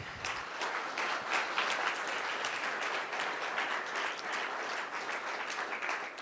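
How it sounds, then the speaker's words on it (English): A luncheon audience claps for a senator at a healthcare event, even sustained applause heard from a moderate distance, with no talking over it. "Let's give another round of applause to Senator Lee."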